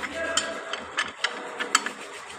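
Torque wrench ratcheting on connecting rod bolts of a Toyota Land Cruiser 2UZ-FE engine, a series of close, crisp clicks in short uneven bursts with a faint low hum beneath.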